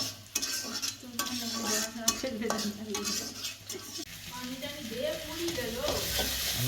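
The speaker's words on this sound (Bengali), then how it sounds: "একসাথে দুই কড়াই দিয়ে রান্না করতেছি দেখেন দুই হাত দিয়ে দুই কড়াই" Hilsa fish frying in two woks at once, sizzling steadily while being stirred, with repeated scraping and clinks of utensils against the pans close by.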